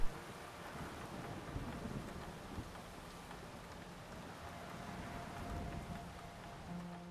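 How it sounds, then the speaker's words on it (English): Soft, steady rainfall patters continuously at low volume in the Mafia 2 game city of Empire Bay, with a faint distant rumble beneath. "Rainy day in New York City, it looks like."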